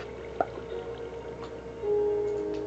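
Water flows in the Minecraft video game, a soft trickle with a brief drip-like splash early on, then a steady faint watery hiss with no talk over it.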